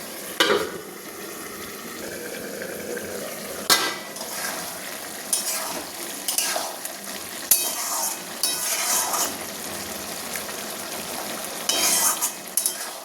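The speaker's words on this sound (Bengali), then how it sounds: "ঢাকা দিয়ে কিছুক্ষণ আমি এটা সেদ্ধ করে নেব ভালো করে।" Fig (dumur) curry cooks in a covered pan with a soft, continuous sizzle and bubble, broken by occasional sharp clanks of a lid and utensils against metal.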